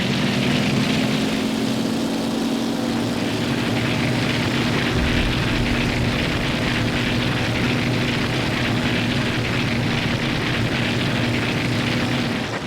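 A WWII propeller fighter in flight in Damage Inc.: Pacific Squadron, its engine a steady heavy drone with a sustained low hum, loud and continuous the whole way through.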